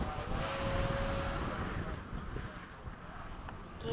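An FMS Hawk RC model jet comes in to land, its high turbine whine sliding down in pitch over a few seconds beneath gusty wind noise outdoors.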